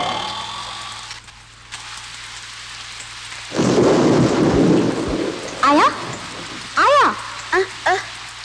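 Heavy rain with thunder in a film scene begins as a soft hiss, then bursts into a loud, close roar of downpour and rumble, with short voiced sounds over it.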